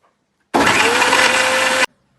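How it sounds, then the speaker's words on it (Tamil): A mixer grinder blends soaked dates with milk in a jar, a steady loud whirring motor roar that starts abruptly, runs evenly for just over a second, and cuts off sharply, with no talking. "சோக் பண்ண டேட்ஸ் அண்ட் மில்கை வந்துட்டு மிக்சர் ஜாரில் மாற்றிட்டு நல்லா பிளெண்ட் பண்ணி எடுத்துக்கணும்"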